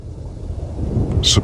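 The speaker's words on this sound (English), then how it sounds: "These hard rainfalls immediately alter the landscape of the arid land." Hard rain falling on an arid African savanna plain, a loud low rumbling wash that builds toward the end and ends with a brief sharper burst.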